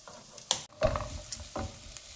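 Onions frying in a pan while being stirred, with a soft sizzle broken by a few sharp scraping strokes of a spoon against the pan, close and fairly quiet, with no voices.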